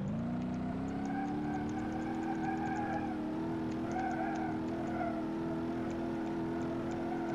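A Lada car drives in the BeamNG Drive video game, its engine a steady, continuous drone with harmonic whine and tire noise, loud and alone without talk.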